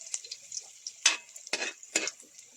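Garlic dropped into hot cooking oil for yellow fried rice, a soft steady sizzle with several louder crackling bursts of frying and stirring, close and alone with no talk.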